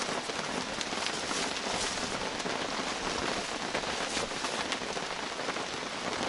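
Heavy rain pouring during a storm with wind, a dense, steady hiss of drops hitting surfaces close by, unbroken and loud throughout with no voices.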